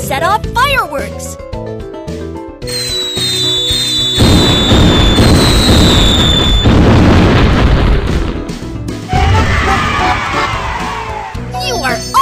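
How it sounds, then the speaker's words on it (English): Booming, crackling bursts of fireworks in the BabyBus kids' video game go off repeatedly over upbeat game music and chimes, loud and close, fading into sparkly tones near the end. "Let's set off fireworks!"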